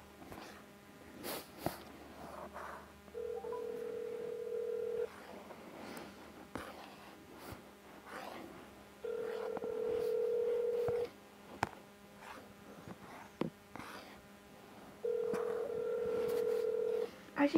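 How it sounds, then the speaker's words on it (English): Telephone dialing with bursts of keypad tones, three long steady dial-tone stretches between quieter gaps, with scattered clicks and soft background noise. "Phone."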